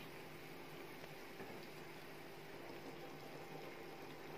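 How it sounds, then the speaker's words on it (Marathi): Steady bubbling and simmering of a thick fish curry in a pot, a continuous low churning with no talking. "अशा प्रकारे आपल्या माशाच्या करीला उकळी आली आहे"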